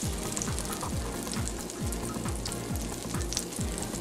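Butter melting in a pan for a full batch of mac and cheese, giving a steady broadband sizzle and crackle, close and continuous, with a low rhythmic clattering beneath and no talking.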